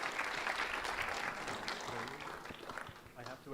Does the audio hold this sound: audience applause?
yes